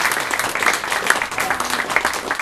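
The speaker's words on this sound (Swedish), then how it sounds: "Stora applåd en gång till." An audience at a live stage performance applauds steadily, a dense wash of many hands clapping at once with no pauses.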